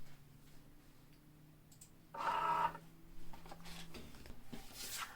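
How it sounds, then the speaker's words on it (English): A Cricut cutting machine unloads its mat: quiet motor hum, then a short whirring buzz of the rollers, followed by faint clicks and rustling, all soft and close with no talking. "Select unload to unload it from the machine."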